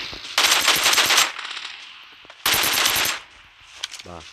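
Two long bursts of rapid automatic gunfire in the PUBG Mobile battle royale game, each lasting about a second, loud and close, separated by quieter background ambience with a faint short sound near the end.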